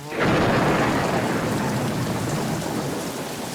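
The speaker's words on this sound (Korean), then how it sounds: "갑자기 우르릉 쾅 천둥 번개가 치더니 소나기가 쏟아지기 시작했어요" A rumble of thunder rolls in over a steady, heavy rain shower, loud and continuous throughout.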